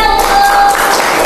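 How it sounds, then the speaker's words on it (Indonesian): A crowd claps loudly and continuously for a moment in a classroom after a teacher's call, a dense burst of applause with voices mixed in. "berikan tepuk tangan yang meriah"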